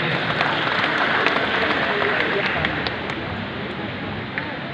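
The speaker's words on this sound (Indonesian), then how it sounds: "Oke, tepuk tangan untuk Bapak Ibu sekalian." A seated audience at a motivational day event breaks into loud, continuous applause, a dense wash of clapping that stays fairly even before easing slightly toward the end.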